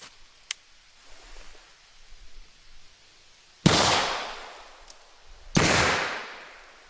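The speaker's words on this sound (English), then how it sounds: "we're going to fire the first shot single action" Two sharp, loud shots from an antique British revolver, the first single action and the second double action, about two seconds apart, each with a decaying outdoor echo.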